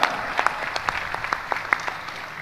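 An audience at Universitas Airlangga claps in a short burst of applause, with individual sharp claps standing out over a steady patter and no voices.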